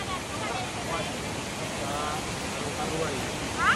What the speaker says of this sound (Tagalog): ipakita na ko sa inyo ang kanindot sa waterfalls sa Hingog